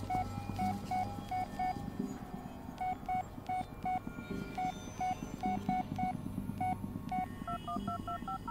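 Phone keypad dialing in the horror video game Blair Witch: a run of clear electronic touch-tone beeps in quick irregular bursts, steady and moderately loud over a low ambient game drone, with no talking.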